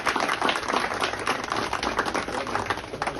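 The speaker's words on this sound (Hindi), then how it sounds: "जोरदार तालियां।" Loud, dense audience clapping at a community gathering welcoming the Helmet Man of India, sustained and even throughout with no talk over it.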